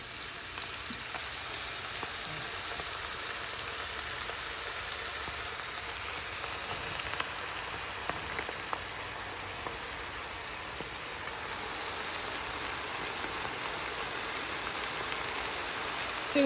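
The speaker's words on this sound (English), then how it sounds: "I want to start frying immediately, and I'm just going to start putting some onions in the." Onions for onion rings drop into hot oil at about 340 degrees and deep fry with a steady, even sizzling hiss that continues unbroken, close and moderately loud, with no talking.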